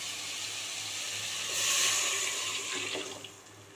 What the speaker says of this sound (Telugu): వాటర్ మరుగుతున్నాయి.